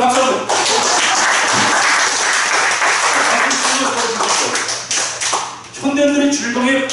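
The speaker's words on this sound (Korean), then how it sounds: "선생님한테 박수 한번" Audience clapping for a participant at a Korean health lecture led by a pastor, a dense burst of applause filling the room, with voices talking over the end as it fades.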